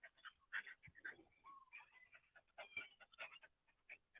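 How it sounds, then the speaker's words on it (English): A puppy named Sadie pants and whimpers up close in quick soft bursts and high thin whines, with light breathy sounds between. "You're still a puppy too"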